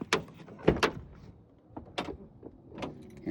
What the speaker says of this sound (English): Door opening and closing.